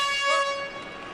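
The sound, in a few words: air horn sounding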